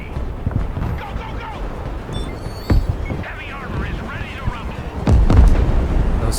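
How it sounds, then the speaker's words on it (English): Enemy artillery strike in the strategy game Broken Arrow: heavy explosions land, one sharp blast midway and a louder rumbling burst near the end, over steady battlefield noise, with someone talking throughout. "A solid enemy artillery strike there."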